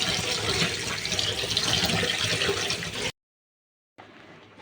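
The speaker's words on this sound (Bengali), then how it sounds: "লাউ শাকের পাতাগুলো ধুয়ে পরিষ্কার করে নিয়েছি।" Running water rushes steadily over bottle gourd leaves being washed, then cuts off abruptly before resuming more faintly.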